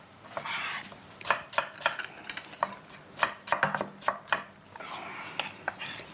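A knife chops onions on a board in a series of close, crisp, uneven thuds, sometimes in quick bursts and sometimes in single strokes, over a quiet background with no speech.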